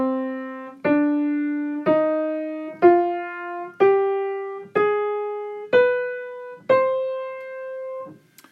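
A C harmonic minor scale climbs note by note on a piano-like instrument, eight evenly spaced tones each struck cleanly and left to decay, ringing alone with no voice.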